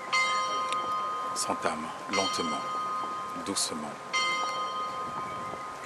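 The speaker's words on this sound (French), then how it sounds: "C'est au-delà de cette cloche que la procession funéraire" A church bell tolls slowly during a funeral procession for a pastor, its ringing tones lingering in the background while someone speaks in French over it.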